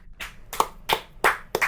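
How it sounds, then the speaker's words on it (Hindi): A few distinct hand claps, roughly five in a steady rhythm, from a group applauding team group heads at a recognition meeting, close and fairly clear with no talk over them. "इन सब सारे के सारे ग्रुप हेड्स के लिए मैं चाहूंगी एक बार जोरदार तालियां बजाई जाएं"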